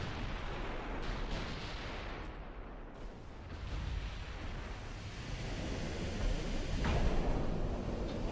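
Naval gunfire from warships in the naval strategy game Ultimate Admiral: Dreadnoughts, a dense rumbling barrage of booming shots and heavy low roar that builds toward a louder blast near the end.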